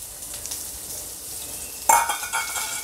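Ginger going into a hot pan with onions for an Afghani egg gravy, giving a soft steady sizzle that jumps into a sharper, louder crackle partway through, with light stirring and scraping and no voices.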